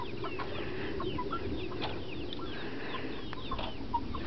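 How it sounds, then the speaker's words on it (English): A flock of backyard chickens clucking and murmuring steadily, close by, with overlapping short calls and a few sharper squawks, no talk. "Those are my chickens."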